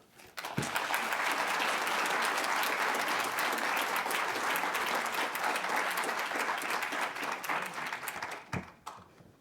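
A museum audience breaks into warm, sustained applause welcoming author Toni Tipton-Martin, a dense wash of clapping that holds steady for several seconds before tapering off.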